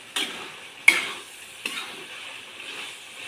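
Boiled gatta stirred and fried in a pan: three sharp scraping strokes of a spatula, each followed by a soft sizzle that fades, with quieter frying between them, heard up close.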